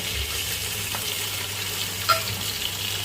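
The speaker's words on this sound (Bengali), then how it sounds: "তার মধ্যে মাছগুলো দিয়ে দেব এই যে মাছগুলো দিয়ে দিলাম" Shrimp fry and sizzle steadily in a pan with taro stolons, a dense, even hiss filling the whole stretch at close range with a brief clink near the end and no voices.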